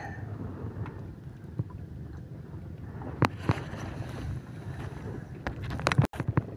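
A small fishing boat sits on open water, with a low steady wash of wind and water punctuated by several sharp knocks and creaks of the hull, the loudest clustered near the end.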